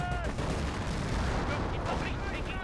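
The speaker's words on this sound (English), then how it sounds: "Artillery barrage running on in." Artillery barrage in the World War II strategy game Company of Heroes, dense overlapping booms and rumbling impacts rolling continuously, with a voice talking over them.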